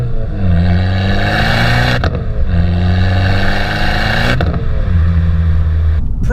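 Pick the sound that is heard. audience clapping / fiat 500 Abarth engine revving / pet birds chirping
fiat 500 Abarth engine revving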